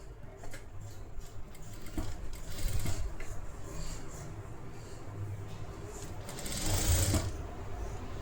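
Sewing machine stitching a half-inch seam on a princess-cut blouse with a pack neck, a faint whirring run of needle strokes in short bursts and pauses, quiet overall with soft handling noises between.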